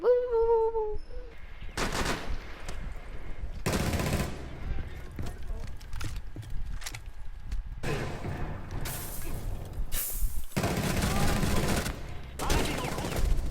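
Shotgun gunfire in the video game Rainbow Six Siege comes in repeated loud blasts and short volleys, dense and close, with gaming chatter and other game sounds between shots.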